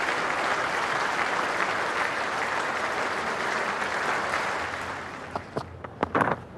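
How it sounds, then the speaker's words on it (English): A cricket Test match crowd in a stadium cheers and applauds in a broad sustained roar that thins out toward the end, leaving scattered claps. "The crowd are loving it."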